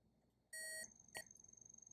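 Electronic beeps from MSA Sordin Supreme Pro X hearing protection earmuffs powering on: a bright tonal beep, then a second short beep, close and clear over quiet background hiss.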